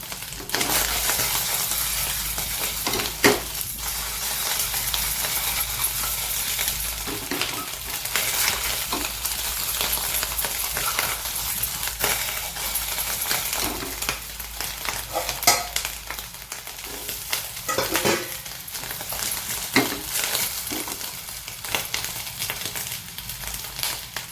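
Coated balls for a fasting-day recipe frying in oil, a loud, dense crackling sizzle with sharp pops and crunchy bursts scattered throughout, close and continuous with no voices.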